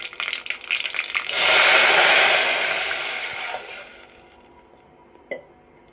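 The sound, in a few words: pouring water into hot mustard seed and cumin tempering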